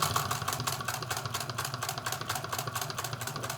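A Singer 66 sewing machine with its original cleaned and rewired motor stitching through heavy material, a fast, even mechanical chatter of needle strokes over a steady motor hum, close and continuous with no talk.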